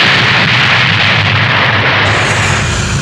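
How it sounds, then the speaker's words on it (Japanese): A dense, roaring blast of broadband noise fills the whole span, loud and sustained, a tank cannon firing with heavy rumbling that rolls on without pause. "日がない一日戦車を乗り回し、おそらく欲求不満の解消であろう、時折発砲を繰り返している"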